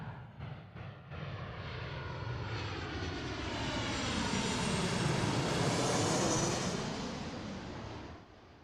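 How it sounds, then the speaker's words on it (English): A Boeing 737 airliner in special Star Wars livery arriving from Burbank to land at Seattle, its jet engine roar swelling from a distance to a loud peak, then gradually fading. "Coming in from Burbank. 737, of course."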